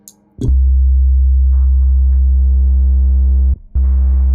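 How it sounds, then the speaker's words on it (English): Synthesized 808 bass built in FL Studio from a sine wave layered with a triangle wave, pitched low: a loud sustained deep tone with buzzy harmonics, briefly cutting out near the end before resuming. "We're going to add a triangle wave and harmonize it with this initial sine wave by bringing up the mix."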